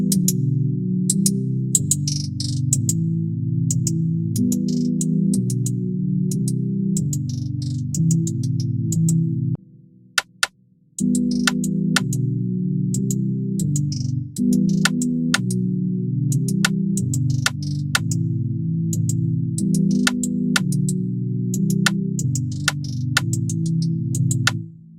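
An Afrobeat-dancehall beat plays through a phaser and reverb, with a steady low looping bass and chord pattern under crisp sparse percussion hits, dropping out briefly around the middle before resuming; continuous and unaccompanied by talk.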